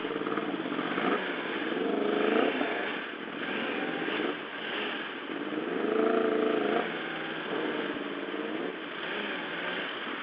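A motorcycle is ridden with a steady engine drone heard from the rider's position, its pitch rising and falling smoothly through gear changes and throttle shifts, with no talking.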